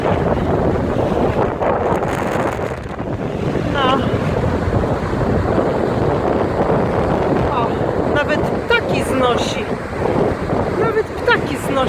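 Strong sea wind roars continuously against the microphone alongside crashing surf, with a few faint bird or voice chirps cutting through.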